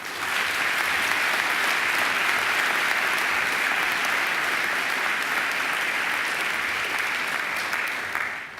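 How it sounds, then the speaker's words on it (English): Sustained audience applause at a university graduation ceremony, a dense, steady wash of many hands clapping throughout, loud and even, tapering slightly at the end. "I think Angela deserves another great round of applause."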